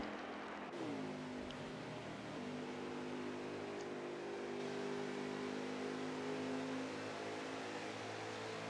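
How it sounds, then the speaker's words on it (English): A NASCAR truck engine in the video game NASCAR Heat 4 revs up sharply at Charlotte, then holds a steady, buzzing drone as it speeds along, with no voices. "You can hear the different sound the engine's making"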